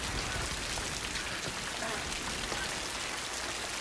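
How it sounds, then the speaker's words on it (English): Steady rain falls outdoors, a dense, even hiss of drops with scattered pattering that continues unbroken and fairly close. "gotta get out of this rain."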